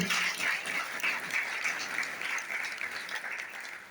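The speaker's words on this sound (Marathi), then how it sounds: "तोडदार टाळ्या वाजवायचे आहे" Sustained clapping from a crowd at a ceremony honouring community dignitaries, dense and steady, gradually easing off toward the end.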